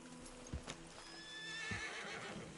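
A horse in the Red Dead Redemption video game gives a high, wavering neigh, quiet and fairly distant, preceded by a couple of soft hoof clops.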